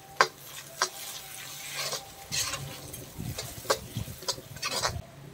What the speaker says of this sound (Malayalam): നമുക്ക് അതിലേക്ക് രണ്ട് തക്കാളി അരി ചെറുതായിട്ട് അരിഞ്ഞത് ചേർത്ത് കൊടുക്കാം.